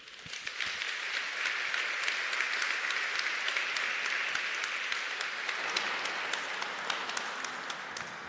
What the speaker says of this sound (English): join me on stage right now with a round of applause